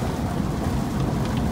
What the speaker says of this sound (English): We are running into a lot of rain, and as hard as it is raining